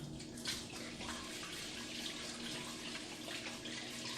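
Rice is rinsed under a running kitchen tap, a steady close stream of water splashing into the grains in a sink, continuous and fairly quiet, with no talking.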